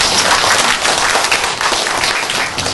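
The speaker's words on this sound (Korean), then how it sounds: "큰 박수로 환영해 주시기 바랍니다" An audience claps in a dense burst of applause, welcoming a lecturer to a special medical lecture at a university hall; the clapping is loud and continuous, then cuts off.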